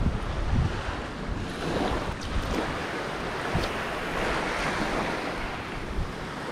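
Surf rolls and breaks along a channel where someone is fishing from the shore, a steady roar of churning water mixed with buffeting wind noise on the microphone, with no talk over it.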